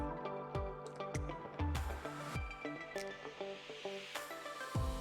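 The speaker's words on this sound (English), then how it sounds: "Just giving it a good stir all the time so it doesn't clump up." Light dry malt extract stirred into brewing water in an SS Brewtech stainless steel kettle, with repeated knocks and scrapes of the stirring tool ringing against the metal in a steady, uneven rhythm.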